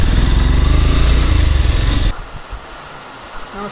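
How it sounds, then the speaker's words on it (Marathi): A motorcycle rides slowly through heavy monsoon rain on the way to a trekking village, its engine droning loud and close for about two seconds before dropping away, leaving softer rain and road noise. "बाईक स्लो चालवावी लागत आहे."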